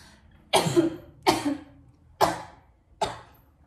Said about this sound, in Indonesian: Batuk dulu, guys.